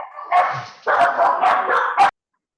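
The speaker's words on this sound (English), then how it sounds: "There was a dog barking." A dog lets out a quick burst of sharp, close barks and yips over about two seconds, then stops abruptly, heard during a meeting.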